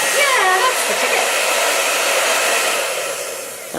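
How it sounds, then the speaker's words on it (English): A two-speed hair dryer blows continuously at close range, a loud steady airy whoosh that eases slightly toward the end. "How come this is a 2-speed hair dryer?"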